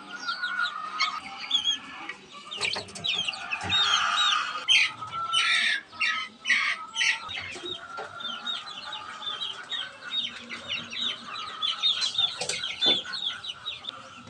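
Month-old chicks cluck and cheep busily while drinking, with a dense, continuous chorus of squawks and peeps layered over one another at close range.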